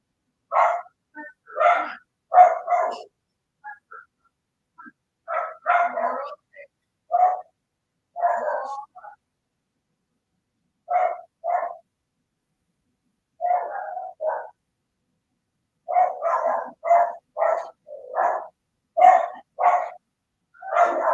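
A dog barks in repeated, fairly loud bursts, with short clusters of barks separated by brief pauses and a long rapid run near the end; no one speaks.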